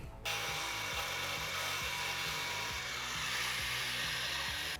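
A power tool cuts through plastic for a Chevy Colorado front bumper install, starting abruptly and holding a loud, steady whine and grinding buzz with a pulsing low rumble, close up and uninterrupted.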